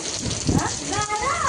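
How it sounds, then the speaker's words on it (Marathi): Hailstones and heavy rain hammer down during a sudden May thunderstorm in Anushakti Nagar, Mumbai, a dense steady patter with a low rumble of thunder underneath, while a voice murmurs faintly in the background. "गारांचा आवाज येतोय"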